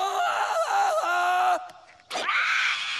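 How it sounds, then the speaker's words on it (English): A cartoon character lets out a long, loud jungle yell before swinging, a wavering sustained vocal cry lasting over a second, followed by a brief rising whoosh-like shout and a sustained tone. "A clear jungle yell tells everyone you're ready to swing."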